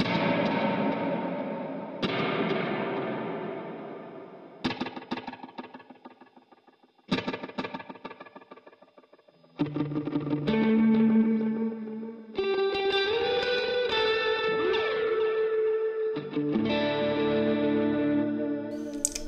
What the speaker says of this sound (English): And then I have the Cosmos Echo.